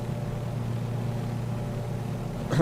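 A Twin Beech aircraft engine in the Microsoft Flight Simulator game holds a steady, even drone in flight, with a brief louder swell right at the end.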